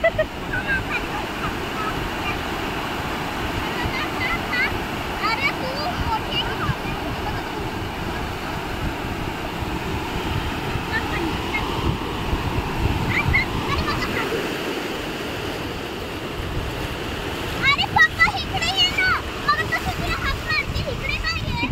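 Ocean waves wash steadily onto Tarkarli beach in a constant surging roar, with people talking and children's voices mixed into the surf.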